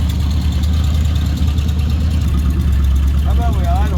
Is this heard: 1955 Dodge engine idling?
yes